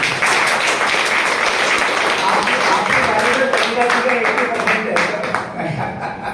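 Audience applause at a gathering honoring Jagdish Kabira, loud sustained clapping from a crowd with voices talking underneath, fading slightly near the end.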